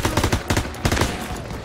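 Rapid bursts of automatic gunfire in the World War II shooter Call of Duty WWII, loud and close, with repeated volleys cutting in and out through a noisy battlefield mix.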